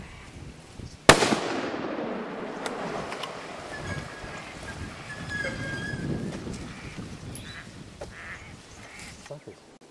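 A single loud gunshot cracks out during a wild pig and bull hunt in central Queensland, followed by a lingering echo, with ducks quacking and people talking in the background.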